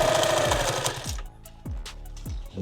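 A sewing machine stitches through the foam of a padded OD green war belt. A loud continuous run is followed by several short stop-start bursts of stitching, close up and with no talking.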